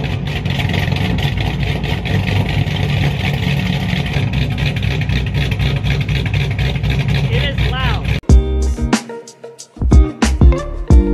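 A modified 4.6-liter V8 with cams, bolt-ons and a Zex nitrous setup idling loudly with a steady low rumble for about eight seconds, then cutting to brief engine bursts and someone talking.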